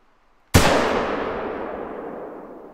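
A single sharp rifle shot fired at a bison in the hunting video game theHunter: Call of the Wild, a sudden loud crack after brief quiet that rolls off into a long fading echo.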